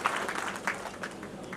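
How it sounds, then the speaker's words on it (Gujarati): Guests at an inaugural function applaud Nagindasbhai with a moderate, fairly soft patter of clapping that lasts under two seconds, with a voice briefly sounding over it. "બે વાર તાળીઓ હોવી જોઈએ નગીનદાસભાઈ માટે તો ખરી"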